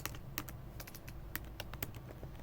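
Rapid keystrokes click on a computer keyboard close by, an irregular rhythm of sharp taps with a few louder key presses over a quiet background.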